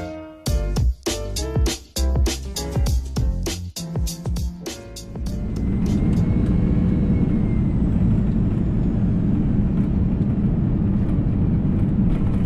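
Inside the cabin of a Lufthansa Airbus A340 descending toward Frankfurt, a series of sharp clattering knocks gives way to a steady, loud broadband engine and air rumble that continues to the end.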